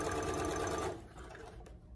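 A sewing machine runs fast while stitching fabric for a Grainline Studio Yates coat, making a close, rapid mechanical whir for about a second that then stops, leaving quiet room tone.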